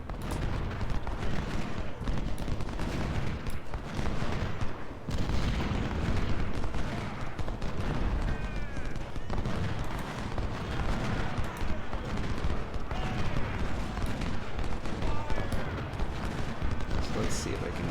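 Cannon and gunfire boom continuously through a Civil War battle at Chancellorsville and Salem Church in the strategy game Ultimate General: Civil War, a dense, loud barrage of overlapping shots with a voice talking over it.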